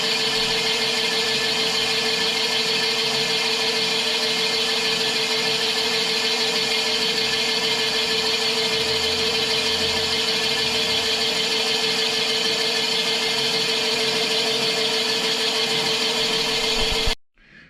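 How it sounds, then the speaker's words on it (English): A cylinder boring machine cuts steadily down an engine bore, a loud, even mechanical whine with a strong tonal hum held for many seconds, then abruptly shuts off near the end. "when it gets to the bottom of the bore, the machine will shut off"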